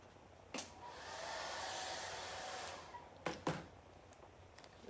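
A hair dryer blows a soft, steady whoosh over chalk paste on a stencil, faint and even, with a few sharp knocks and taps at the start and near the end.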